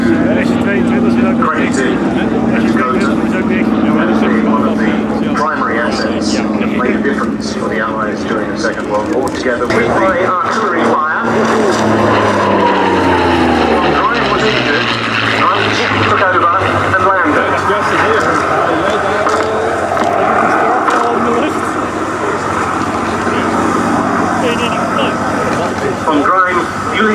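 A propeller aircraft circles slowly at the Duxford airshow, its droning engine note rising and sweeping down in pitch as it passes, heard under continuous spoken commentary.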